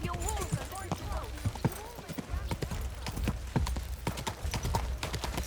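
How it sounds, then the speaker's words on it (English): Horse hooves clop steadily at a quick pace in the medieval game Kingdom Come: Deliverance II, close and clear, with a horse snorting and people talking over the hoofbeats. "Do you want that horse to trample me?"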